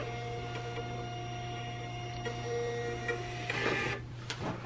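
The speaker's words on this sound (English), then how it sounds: "I'm going to choose my Dymo Label Writer printer." A Dymo LabelWriter printer printing a shipping label, a steady close mechanical whir with a constant hum and a louder feed burst near the end, heard alone.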